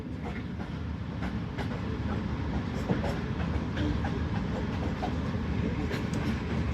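The Jaffar Express rolls along the rails after leaving the station, a steady, dense rumble with a rhythmic clickety-clack of wheels over joints, close and continuous with no voices.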